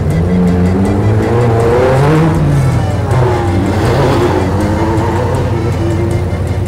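Off-road race cars at the start of the Baja 500 in Ensenada, engines roaring loudly and continuously with revving pitch sweeps and passing vehicles over a dense rumbling background.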